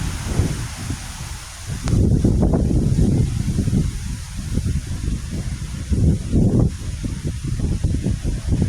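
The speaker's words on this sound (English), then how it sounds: "And the wind's starting to pick up again." Gusty wind in the aftermath of Hurricane Helene buffets the microphone outdoors, a loud, uneven low roar that surges and eases in waves, with no talk.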